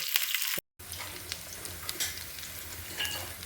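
Crushed garlic and green chilies fry in a pan, giving a steady low sizzle with a few scraping stirs. A brief dropout cuts in early, and there is no talk.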